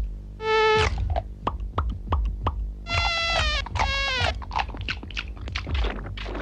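Mosquitoes whine in a 1990s Indian TV commercial for All Out repellent: several close, high buzzing bursts, rising and falling, broken up by sharp clicks and thuds.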